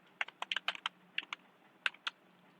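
Short, crisp keystrokes on a computer keyboard while typing in the PyCharm editor, a quick irregular run of close clicks with a brief pause before two final taps.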